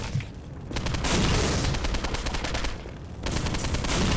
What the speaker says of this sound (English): Whoa, that was a big explosion.